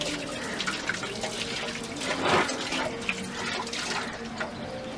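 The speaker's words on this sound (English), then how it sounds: "this soil is very dry because we haven't grown anything here for some time, so this will need a lot of water." Water poured onto very dry soil in flower vases while planting lettuce and chilli in winter, a steady close splashing and trickling that swells briefly midway, with no talking.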